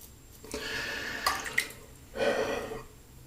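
Gillette New Short Comb double-edge safety razor making a light touch-up pass over soap-slicked skin, two close, soft scraping rasps separated by a brief pause, with faint clicks between them.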